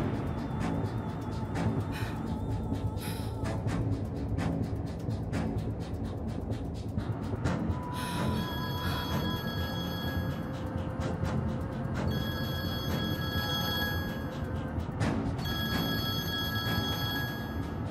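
A telephone rings in a domestic drama scene, with repeated electronic ringing tones and bursts standing out over a busy, cluttered background for most of the stretch.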